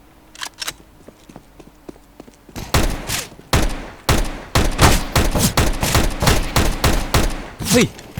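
Gunfire in Counter-Strike: Global Offensive starts with faint clicks and footsteps, then breaks into a rapid string of loud, sharp shots, roughly a dozen close together.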